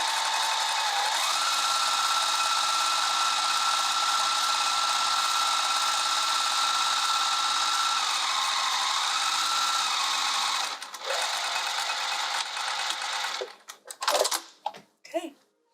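A sewing machine stitching the lined bodice of a dress, its motor whirring in a long continuous run that changes pitch slightly, then breaks into short bursts and stops.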